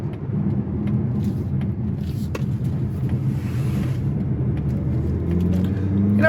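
Mazda CX-50 crossover taking a corner on the road, with a steady engine and road rumble that stays loud and even throughout, closely recorded from inside the cabin.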